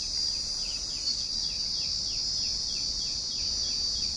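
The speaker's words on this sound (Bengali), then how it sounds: "শুধু ঝিঝি পোকার ডাক আর পাখির আওয়াজ পাচ্ছি" Crickets chirp in a continuous high-pitched drone near an old temple, with a faint repeating bird call sweeping down at regular intervals, steady and unbroken with no voices.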